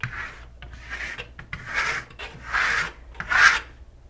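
A trowel spreading and scraping Shimmer Stone plaster on a wall, five rhythmic rasping strokes with hissy scrapes and brief pauses, close and clear, with no talk.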